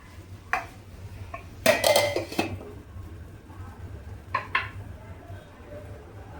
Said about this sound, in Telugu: ఆకుని మూత పెట్టేసుకుందాం.